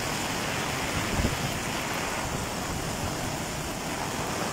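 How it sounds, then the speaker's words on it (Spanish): Heavy hurricane rain pours down beside a swelling stream close to flooding, a dense, steady hiss of water with a rushing current underneath, continuous and fairly loud, with a brief thump near the middle. "Está bastante fuerte la lluvia ya, ahora sí. Muy intensa."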